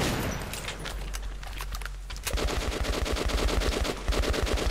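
Automatic weapon fire from the video game Metro: Last Light, with scattered shots giving way to rapid, loud bursts of machine-gun fire in the second half, dense and continuous.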